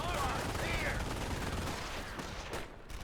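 Machine gun fire on Omaha Beach in the video game Company of Heroes, dense rapid bursts blending into a loud continuous battle din with whistling shells, easing off near the end.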